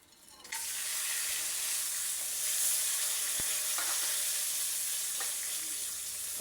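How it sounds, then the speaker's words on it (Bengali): Meat and ground spices sizzle steadily in hot oil, a dense, constant frying hiss broken by a few light clinks of stirring. "মাংসটা কষানোর আগে কিন্তু মশলাগুলো দিয়ে দিই।"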